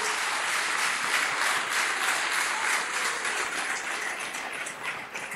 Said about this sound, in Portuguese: Tem um aplauso, louvor ao nome do Senhor nessa hora.